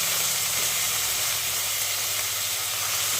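Chopped green tomatoes dropped into a pan of sautéed onions for a mixed vegetable theeyal give a steady, loud sizzling hiss that holds evenly throughout, with no talking.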